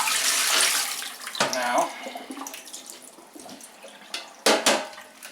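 Tap water splashes and runs while black and white film is rinsed in a sink, with short bursts of flow and handling clatter, and a brief spoken word.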